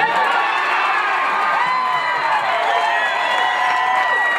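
Large outdoor crowd cheering and shouting at a celebration for Little League national champions in Huntington Beach, a steady, dense roar of many voices with children's shouts mixed in, loud and continuous throughout.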